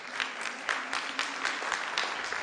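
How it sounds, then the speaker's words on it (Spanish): Ovation from delegates at a meeting, a steady rhythmic round of clapping heard at moderate distance with individual claps pulsing through, no speech over it. "La ovación de los presentes denotó apoyo a la denuncia cubana"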